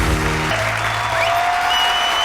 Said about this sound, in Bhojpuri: जोरदार तालियों के साथ स्वागत करी मंच पे अलका जी के